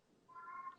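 A cat lets out a single faint, drawn-out meow that rises out of quiet room tone partway through and carries on to the end, with nobody talking.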